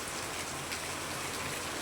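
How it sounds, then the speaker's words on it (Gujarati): Heavy, continuous rain pours down in a steady, dense hiss that stays even and close throughout, with no pauses. "વરસાદ જો કેટલો ફૂલ હે એક ધારો કયું નો ચાલુ હે"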